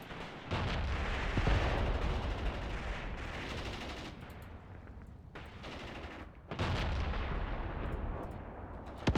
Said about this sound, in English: Spandau's firing off here.